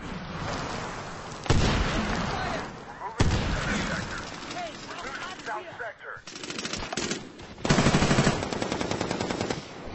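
Heavy automatic gunfire rattles in long, loud bursts with gaps between them during a Medal of Honor Warfighter sector control multiplayer match, with a voice briefly heard in the mix.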